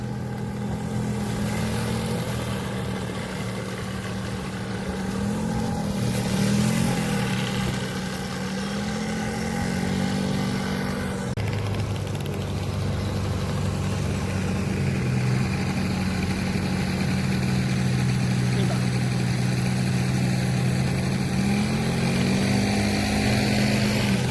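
A scooter engine hums steadily and fairly loudly throughout, its pitch wavering slightly as it rides along, with no voices.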